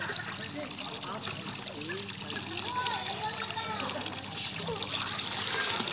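Water splashing and trickling as a baby swims, light splashes close by, with a child and an adult talking over them throughout.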